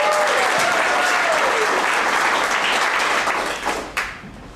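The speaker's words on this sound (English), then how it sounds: "Round of applause for Robbie." Loud, sustained audience applause at a campaign launch, with cheering voices through the dense clapping, easing slightly near the end.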